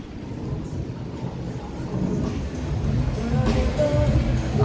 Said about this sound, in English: This is a monsoon, and hopefully within 30 seconds I'll catch a little boom of thunder.